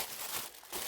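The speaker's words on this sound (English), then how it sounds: "I'm going to reuse our tissue just to stuff in there" Tissue paper crumpled and pushed into a craft box gives a quick, soft crinkling rustle, close and fairly quiet, lasting under a second with no voices.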